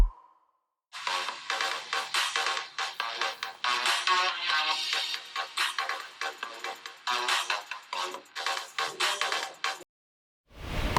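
Music playing through the stereo speakers of a Redmi Note 12 Turbo smartphone with Dolby Atmos, a dense, bright stream of sound with rhythmic pulses, starting after a second of quiet and stopping abruptly near the end.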